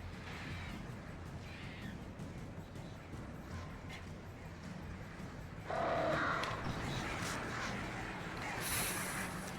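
Birds squawk and caw in the video game Alan Wake Remastered, harsh calls scattered over a noisy in-game ambience with a louder burst partway through.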